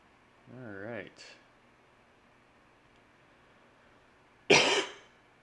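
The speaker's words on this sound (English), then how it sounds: "Sorry, I had to cough." One sharp, close cough near the end from a player during an online tabletop role-playing session, preceded by a brief voiced murmur and otherwise quiet.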